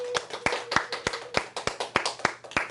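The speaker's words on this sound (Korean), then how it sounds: "여러분 박수 한번 주세요" Audience members at a Bible seminar clap together in a slow, steady rhythm, roughly a dozen distinct claps evenly spaced and close by, with a faint hum beneath.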